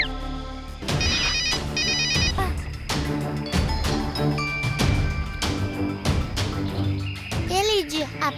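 A phone ringtone trills in repeated bursts in an animated children's cartoon scene, bright and close, with children's voices and other cartoon sounds mixed between the rings.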